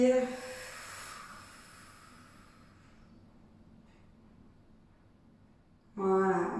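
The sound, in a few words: exhaling breath during a Pilates exercise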